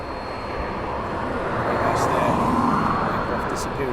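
A fixed-wing aircraft at East Midlands Airport at night, its engine a steady broad roar that slowly swells and holds, heard from a distance.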